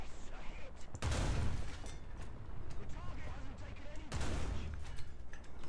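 An M3A1 Stuart tank's gun fires in War Thunder: two loud, booming shots a few seconds apart, each with a sharp crack and a deep low tail, over a steady engine rumble.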